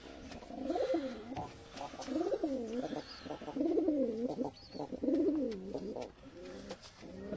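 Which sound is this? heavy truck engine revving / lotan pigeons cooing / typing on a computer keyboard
lotan pigeons cooing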